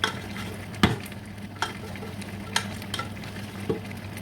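Okra soup being stirred in a pot, the spoon scraping and clunking a few times at irregular intervals over a steady low simmering sizzle, with no talking.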